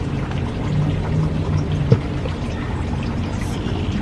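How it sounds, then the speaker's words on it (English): A garden fountain slowly trickling, a steady soft wash of water running throughout at moderate level, with one brief click partway through. "if you love hearing my fountain. I can hear it from here. It's behind me, slowly trickling"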